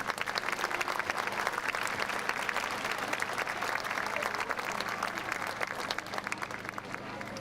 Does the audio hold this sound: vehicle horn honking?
no